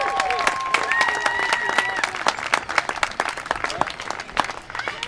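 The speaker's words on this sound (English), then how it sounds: "Give a big round of applause for all of you folks going out and all those folks coming back" A large crowd applauds at the start of the Ride for Roswell 2009 bike ride, clapping densely and steadily, with some cheering and voices mixed in.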